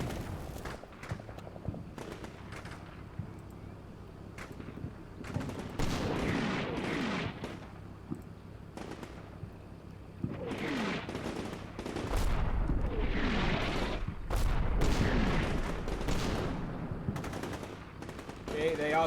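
Machine-gun bursts and heavier shell blasts from a Red Barricades urban war game, clustered and intermittent at first, then thickening into dense overlapping gunfire with booming impacts, loud and close, with faint voices in places.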